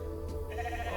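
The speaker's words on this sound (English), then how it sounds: "No, that's a sheep." A single sheep bleats in The Alters video game, a close, clear, wavering call lasting about a second over a steady low hum from the game.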